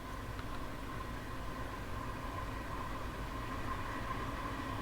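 A Long Island Rail Road suburban train in Train Sim World 2 runs at speed, a steady broadband rumble and rush with a faint tonal hum, continuous and even throughout, no voices.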